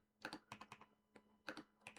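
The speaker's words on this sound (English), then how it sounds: "we have to type in a web address" A web address is typed on a computer keyboard: two quick bursts of close, crisp key clicks separated by a short pause, heard alone and fairly quiet.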